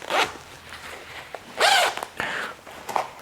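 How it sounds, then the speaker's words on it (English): A metal zipper is unzipped along the detachable shearling collar of a waxed flesh leather bomber jacket. It makes several quick, close rasping pulls of uneven length, with short pauses between them. No speech is heard. "You also have this zipper, which you can quickly unzip."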